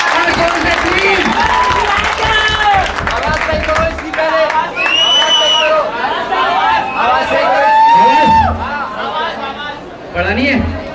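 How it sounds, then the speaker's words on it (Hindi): Audience at a college fest clapping and cheering in a crowded hall, dense applause under excited chatter and calls from the crowd, loud and close with voices talking over it. "एक बार जोरदार ताली करो। और जोर से प्लीज।"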